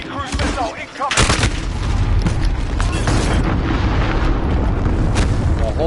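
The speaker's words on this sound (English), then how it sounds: "Enemy cruise missile incoming." Huge cruise missile explosion in a multiplayer console shooter on a PS4 live broadcast: a sharp blast near the start swells into a sustained, dense roar of booming rumble and gunfire that fills the whole clip.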